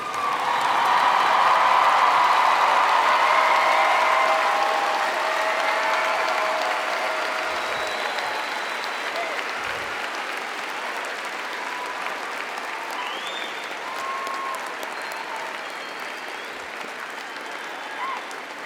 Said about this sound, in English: rise and join me in applauding Fresno State for all of their service